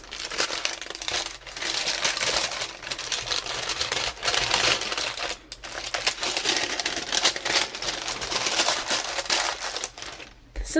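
Glassine or parchment paper is unfolded from around a mixed media painting, giving loud close crinkling and rustling in bursts broken by brief pauses, with no talking.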